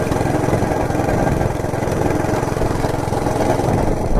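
A Monter Moto MMB80 gas minibike's small engine drones steadily and loudly while it is ridden, a continuous buzzing hum with no talk over it.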